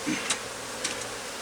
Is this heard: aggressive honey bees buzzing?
yes